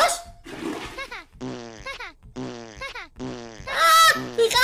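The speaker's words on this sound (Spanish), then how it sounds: "¡Toma pedo!" Cartoon fart sound effects from the My Talking Tom Friends video game, a string of loud, rippling blasts in quick succession with short gaps, ending in a brighter splashy burst.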